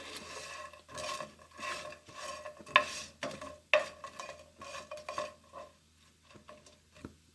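Sun-dried urad dal vadiyalu fry in hot oil in a pan, with soft bubbling hiss and intermittent scraping stirs and metallic clinks of a ladle, moderately close and without talk.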